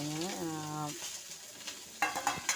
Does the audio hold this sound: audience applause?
no